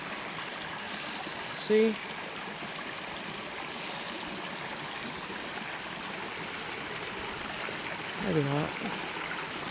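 Steady low rush of stream water runs through a gorge as hikers wade across, with brief voices breaking in near the start and end.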